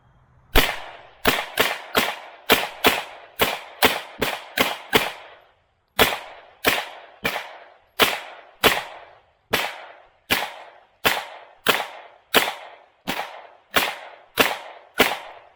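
Rapid semi-automatic shots from an AR9 rifle, fired at fruits and vegetables outdoors: about two dozen sharp, loud cracks in quick bursts, a short pause near the middle, then steadier spaced shots.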